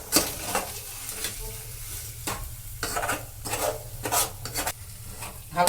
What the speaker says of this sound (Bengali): ভালো করে এটাকে নেড়ে নেড়ে মিশিয়ে দিতে হবে আলুর সঙ্গে